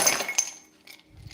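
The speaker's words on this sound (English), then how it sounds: "So what I do is I put a few ice cubes in." A few ice cubes drop into a coffee cup, giving bright, sharp clinks in a quick cluster at the start, then a fainter knock or two as they settle, close by and without talk.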